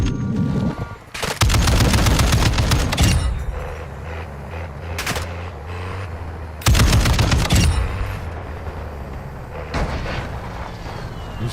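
Call of Duty DMZ gunfire, loud sustained automatic bursts near the start and again midway, with single shots and rumbling game sound between.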